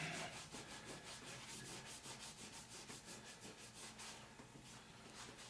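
Rag rubbing down a part from a South Bend lathe under restoration, a steady close scrubbing hiss with repeated back-and-forth strokes throughout, no talking.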